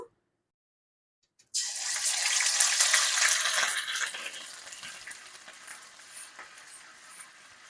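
Ground onion paste hits hot spiced oil for an egg kalia curry, bursting into a loud, close, broadband sizzle after a second and a half of silence, then settling into a steady, slightly softer crackling fry with no voices.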